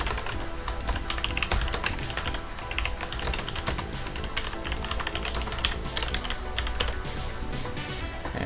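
Close, brisk typing on a computer keyboard in a fast, irregular run of crisp key clicks that continues without a break, with no voices.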